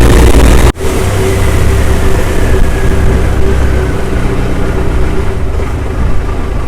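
A canal boat's engine drones loud and close on a ride through the canals around Khlong Lat Mayom floating market near Bangkok, a steady mid-pitched roar with one brief dip near the start.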